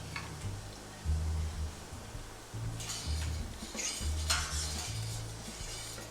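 Melted butter and eggs being stirred in a pan on low heat, a steady soft sizzle under repeated scraping passes of a utensil against the pan, close and moderately loud with no talking.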